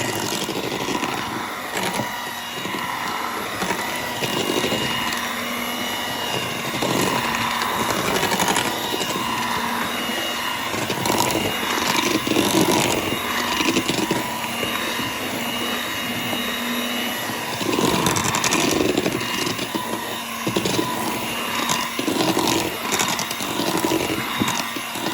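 An electric hand mixer beats chocolate cake batter in a home kitchen, a steady loud whirring drone with rattling scrapes that runs continuously throughout without talk.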